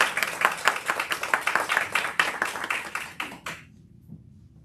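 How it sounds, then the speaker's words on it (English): Audience applause at a school board meeting: brisk, dense clapping from a room of people, fairly close and loud, running steadily for over three seconds before cutting off abruptly into quiet room tone. "Can we give one more round of applause for all of our students and our staff?"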